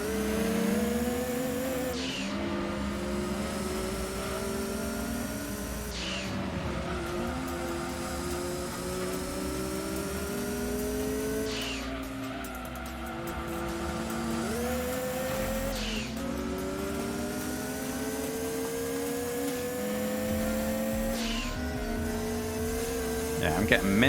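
Racing cars roar through a Gran Turismo 2 race on the PS1, with steady, overlapping engine drones and revs that rise and fall continuously, interrupted by brief shifts in pitch.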